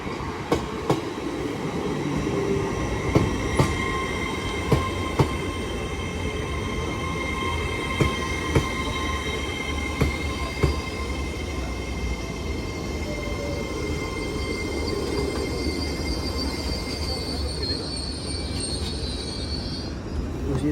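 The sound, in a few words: TransPennine Express class 802 train arriving at station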